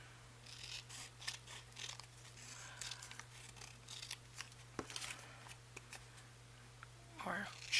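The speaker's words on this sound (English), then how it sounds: "We'll cut off the small side" Scissors snip through paper for a wrap-around angled pocket, trimming off the short side; soft, quiet cutting strokes with faint rustling, under a steady low hum, with a louder crinkle near the end.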